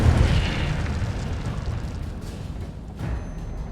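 An Incendio fire spell cast in the Hogwarts Legacy game gives a loud whooshing, fiery burst that rumbles and fades over a few seconds, with a second smaller flare near the end.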